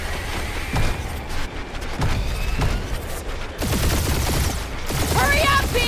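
Rapid gunfire bursts from turrets in the Guardians of the Galaxy video game, loud repeated blasts layered with other game effects and bright electronic chirps, with voices talking over the action.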